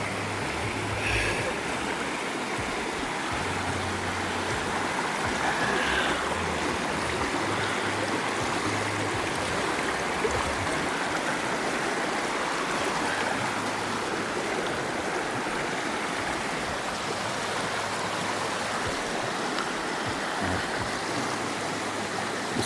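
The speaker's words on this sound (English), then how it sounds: "this is the river, the last spot" River water flows in a steady, broadband rush throughout, loud and constant with no pauses, at an outdoor river site.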